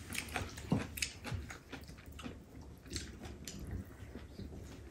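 Close, wet chewing and biting of Korean home-cooked food such as seaweed soup, spicy stir-fried pork, seasoned squid and fried zucchini pancakes, soft repeated squishes and crunches at a relaxed pace, no talking.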